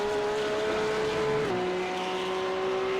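Porsche 911 Cup car (992.2) on a qualifying lap at Miami International Autodrome in iRacing, a sustained high engine note holding pitch then dropping slightly at a shift, loud and continuous with no talk.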